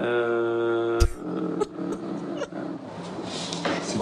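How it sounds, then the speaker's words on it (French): Cat giving a long, drawn-out meow close by, followed by a few soft knocks and rustles, with a voice faintly in the background. "le chat là"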